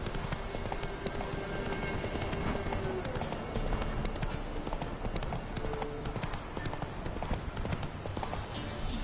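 A horse gallops in The Witcher 3 video game, its hooves beating a fast, continuous clip-clop over a dense in-game soundscape, with a voice talking over it.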